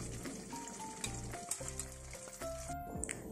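Chicken pieces for biryani frying in hot oil, a loud continuous sizzle with bubbling and stirring scrapes close up, no voices.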